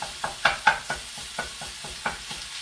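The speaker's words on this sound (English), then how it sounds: "chop this up as it's browning" Sausage browning in a pan for sausage gravy while a utensil chops it up, giving a steady sizzle broken by regular clacking taps of the spatula, close and alone.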